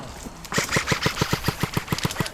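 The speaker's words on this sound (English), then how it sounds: "Where are they shooting from?" Airsoft guns shooting at an abandoned prison, a fast string of about a dozen sharp, evenly spaced pops in quick rhythm, fairly close and loud, with no talking over them.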